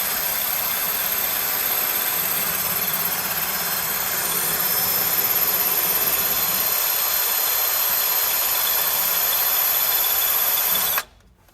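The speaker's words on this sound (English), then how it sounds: "But we're definitely drilling." A power drill bores out a heated and quenched bolt on a 1963 Lincoln Continental. It runs at one steady, loud, whining speed for about eleven seconds, then cuts off abruptly.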